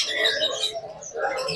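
A sun conure parrot at a bird shop calls with shrill, harsh squawks, fairly close, in a short burst over faint background chatter.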